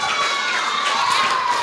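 Applause and cheering from a crowd of schoolchildren at a class quiz contest held at a madrasa for a Maulid celebration, a steady, dense clatter of clapping sustained throughout.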